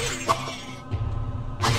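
An enemy noise from the Diablo 1 video game: two sharp crashing, shattering bursts about a second and a half apart, the second longer, with a quieter rumble between them and no speech.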